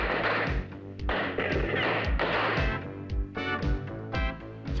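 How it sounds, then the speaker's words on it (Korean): Pistol shooting practice by women police detectives at a firing range, with a rapid series of loud, sharp reports and thuds repeating in close succession. "권총 사격."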